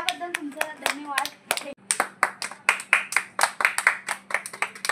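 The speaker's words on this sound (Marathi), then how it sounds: "दादांना अभिनंदन करतो मी, टाळ्या वाजवतो।" People clap to welcome a guest at a shop opening, sharp close claps at first scattered and irregular, then settling into a steady run of distinct strikes, with a voice speaking over the opening moments.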